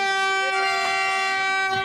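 The Vande Bharat express arrives at Patiala station, and a loud sustained horn blast holds steady through the whole short moment, with crowd noise faint beneath it.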